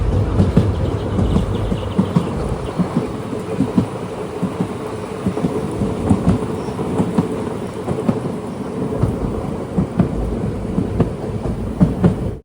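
The Palakkad to Tiruchendur Express rolls along the rails toward a station, heard from inside an unreserved coach as a loud, continuous low rumble with faint rhythmic clatter throughout.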